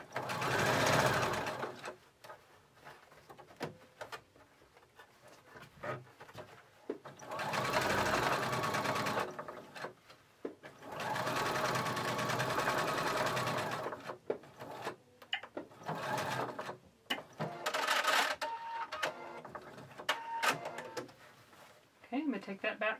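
A sewing machine top-stitches a fabric face mask in several long runs and shorter bursts, with pauses between them. A voice talks quietly during the breaks.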